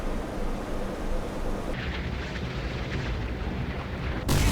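Missile strike on a ship in the naval game Sea Power, a deep rumbling blast roar that shifts partway through and ends in a sudden loud burst.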